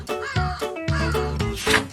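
A crow caws repeatedly, about four loud, harsh calls in a steady rhythm, close and clear with nothing else around them.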